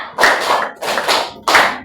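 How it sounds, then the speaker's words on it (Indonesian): Three bursts of loud, close claps come in a rough rhythm, each burst a quick flurry of hand slaps. "tepuk 1, tepuk 2, tepuk 3, tepuk 4, tepuk 5"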